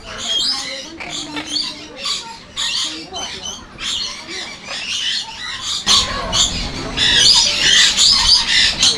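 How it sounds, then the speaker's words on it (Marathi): Peacock-blue parrots at an aquarium squawk and chatter in rapid, repeated harsh calls, some close and loud, over a busy indoor background that grows noisier toward the end. "मोरपिसी रंगाचे पोपट तुम्ही आम्ही क्वचितच पाहिले असेल"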